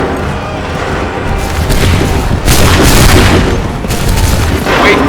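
A volley of gunfire in Assassin's Creed 3 roars as a loud, sustained rolling boom of many overlapping shots, swelling midway and continuing without a break, with no talk over it.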